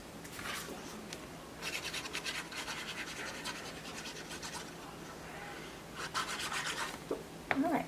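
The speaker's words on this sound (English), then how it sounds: "I could always go in there with my mono eraser and just kind of get rid of the little smear marks right there" Mono eraser rubbing smear marks off a paper thank-you card, a quiet scratchy back-and-forth scrubbing in irregular bursts, close and soft with faint room noise.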